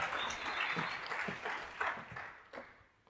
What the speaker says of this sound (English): Level 3 applause for excitement